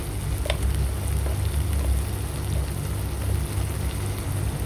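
Onions and tomatoes sizzle and fry in a pan, a steady, moderately loud crackle with low bubbling that continues without pause and no voices over it.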